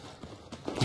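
Footsteps in the video game Battlefield 4, heard as a few quick, close, hollow clopping steps in an uneven run that grow louder toward the end.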